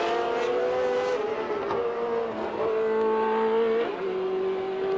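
A 1981 Brazil Grand Prix scene with Formula 1 race cars as Reutemann laps Rosberg: a loud, continuous high engine whine sweeps and shifts pitch as the cars pass, with several gear changes and overlapping engine notes.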